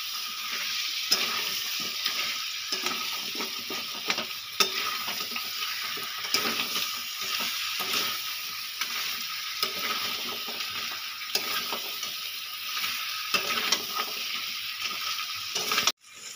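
Pre-soaked crab pieces sautéing in a pan for a spicy crab curry, a long, steady sizzle with frequent clacks and scrapes as they are turned and stirred.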